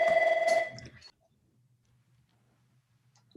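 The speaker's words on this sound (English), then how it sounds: "the phone was ringing" A telephone rings loudly for about a second during a municipal special-call meeting, then stops, leaving a quiet room with a faint low hum and a soft noise at the end.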